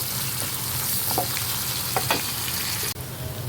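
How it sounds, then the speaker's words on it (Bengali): Chili, onion and garlic frying in a pan give a continuous close sizzle with a few soft stirring scrapes, then a brief dip before the sizzle resumes. "মরিচ পেঁয়াজ রসুন সব কিছু আমি দিয়ে দিয়েছি এখন এটা বাদামি করে দেখে নিব"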